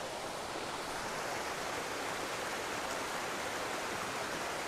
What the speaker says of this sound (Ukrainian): бо ну, реально великий водоспад і 0 людей.